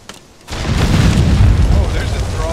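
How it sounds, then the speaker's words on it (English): A loud, sustained rumbling boom from an explosion in the video game Conan Exiles swells in after a brief quiet moment and rolls on for a couple of seconds with crackling debris. "Big explosion."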